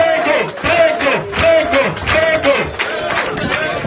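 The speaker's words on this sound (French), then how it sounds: "Applaudissez très très fort" A festival crowd cheers and whoops at a community celebration, a dense, loud wall of shouting voices with yells rising and falling throughout, with little clear clapping standing out.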